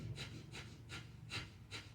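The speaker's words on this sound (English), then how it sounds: "This is Kapalabhati breathing for extra energy." Kapalabhati yoga breathing: five sharp, forceful nasal exhales at a steady quick rhythm, about two per second, close and moderately loud over a quiet room.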